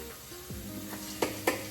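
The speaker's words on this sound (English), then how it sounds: "Let's go ahead and give this a stir." Corn kernels being stirred in an Instant Pot, a soft sizzle under a few scrapes and two sharp spoon taps against the metal pot, close and quiet, with no talking.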